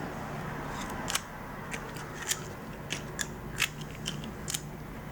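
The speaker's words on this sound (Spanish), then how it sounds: "A medida que vamos cortando también puede que descubramos alguna hoja totalmente seca, entonces la arrancaremos entera." Scissors snipping dry Sarracenia pitcher plant leaves during winter dormancy pruning, a series of short, crisp cuts spaced irregularly over a steady background hiss.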